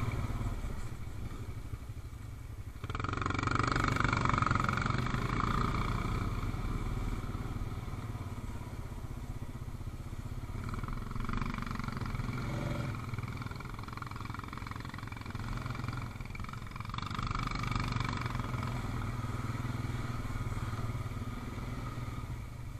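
A motorcycle engine runs steadily in third gear while riding a sandstone trail, a loud continuous drone with clattering and bumps as the bike moves over rough ground, with no talk over it.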